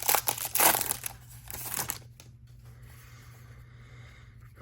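Foil wrapper of a pack of 2025 NFL Chrome trading cards being crinkled and torn open, loud close crackling for about two seconds, then only quiet room noise.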